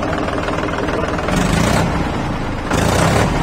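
A Marshal Power Plus tractor runs steadily at idle, its rough, low diesel throb loud and near with a chugging knock; the tractor is fitted with a bumper and hi-lo gearing.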